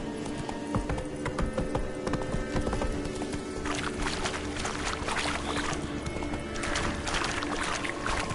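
Roach the horse trots along in The Witcher 3, a steady clip-clop of hooves running throughout over a dense bed of game ambience and music.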